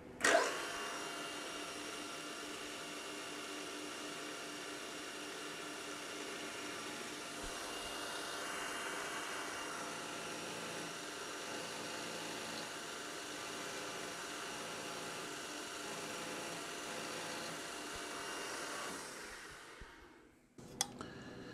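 A milling machine end mill climb-cuts stainless steel parts to size, giving a steady, droning, whining roar for nearly twenty seconds before it winds down and stops with a couple of clicks.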